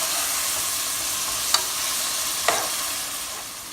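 Onion and tomato frying in a pan give a steady broad sizzle, with two brief scrapes of a spoon stirring them partway through.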